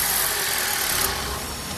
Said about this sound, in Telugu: సింగిల్ సెల్ఫ్లో కార్ స్టార్ట్ అవుతుందండి, ఎటువంటి స్టార్టింగ్ ట్రబుల్ అయితే లేదు.